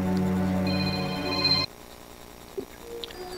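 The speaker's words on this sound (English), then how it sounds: "Bad time for my phone to be ringing." A phone rings during a horror game session, a sustained tonal ring that stops abruptly partway through, leaving a quieter background with a few faint clicks.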